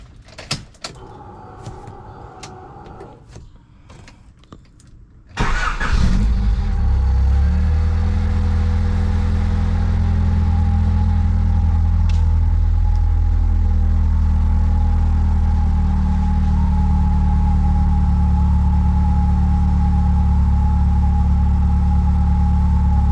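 A Honda Civic Ferio with a D16 SOHC VTEC engine: a few clicks and a brief pause come first, then the starter catches and the engine settles into a loud, steady idle that runs on unbroken, close to the car.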